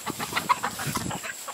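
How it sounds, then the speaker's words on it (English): Chickens cluck in a quick run of short, soft calls, fairly faint and close together, with no voices. "There's the chickens, Boo."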